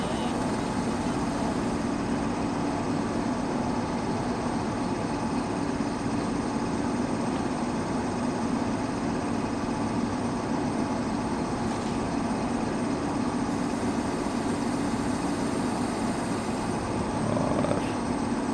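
A diesel locomotive in Train Simulator (Railworks), hauling the 17230 Sabari Express, slows toward a reversal point, giving a steady, loud low engine drone that holds evenly throughout with no talking.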